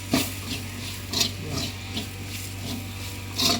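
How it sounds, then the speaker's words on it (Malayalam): Chicken curry with chicken masala stirred in a pan: a few distinct scraping strokes of a spoon against the pan over a steady low background hum, close by and with no talking. "നമുക്കിനി എന്നിട്ട് ഇളക്കി കൊടുക്കാം."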